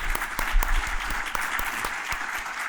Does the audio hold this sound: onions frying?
no